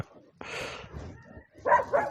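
Dog at a village house giving a couple of short barks and yips, close and fairly loud, with brief pauses between them.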